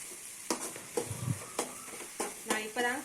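Kashmiri chili powder sautéing in hot oil in a pan for a squid masala, soft sizzling with scrapes and stirring knocks from a spoon, close by, while someone talks over it.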